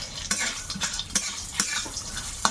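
Bori lentil dumplings frying in a pan in an outdoor Bengali village kitchen, a soft sizzle broken by several sharp scrapes and clinks of a spatula stirring against the pan.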